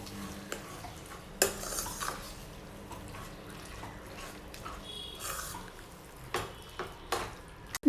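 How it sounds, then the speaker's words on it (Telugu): Quiet scraping and stirring of tomato puree into a red pasta sauce in a pan, soft spoon clinks and a few sharper knocks against the pot scattered over a faint background. "టమాటా ప్యూరీ యాడ్ చేసిన తర్వాత ఇవన్నీ కూడా బాగా కలిసేటట్టు మిక్స్ చేసుకోవాలండి."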